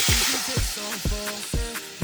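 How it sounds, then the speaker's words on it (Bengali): Spice masala sizzles in oil in a kadai as a little water is poured in to simmer prawns, giving a close, steady frying hiss broken by a few sharper bursts. "কড়াইতে তেল ছেড়ে দিয়েছে। এবারে দিয়ে দেবো, খুব একটা ঝোল বানাবো না, সামান্য একটু জল দিয়ে দেবো"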